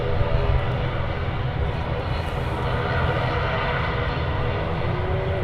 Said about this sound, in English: Another third of the TUI Dreamliners already rolling, not waiting around.